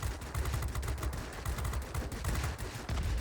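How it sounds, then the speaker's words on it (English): The forward-firing guns of a Tu-10 bomber in World of Warplanes chatter in rapid, sustained bursts over engine drone, loud and close with a steady rattling rhythm and no talking. "Let's maneuver for a forward firing engagement with these guns."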